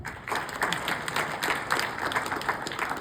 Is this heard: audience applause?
yes